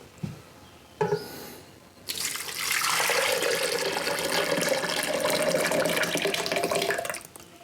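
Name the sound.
melted jelly being poured into a blender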